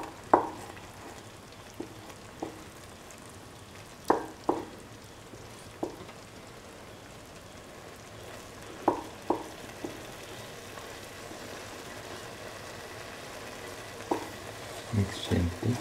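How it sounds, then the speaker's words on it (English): Egg being slowly scrambled and mixed in a frying pan for eggplant fried rice, a steady low sizzle under scattered sharp scrapes and taps of a utensil against the pan. "Now slowly scramble the egg and mix."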